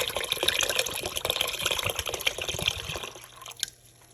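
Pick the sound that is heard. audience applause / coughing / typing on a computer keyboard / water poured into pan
water poured into pan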